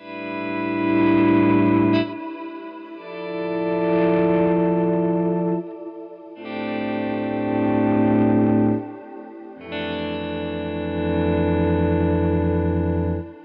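Electric guitar rings out four sustained extended chords through effects pedals with chorus, distortion and echo, each strummed chord held for a few seconds before changing, loud and alone with no talking.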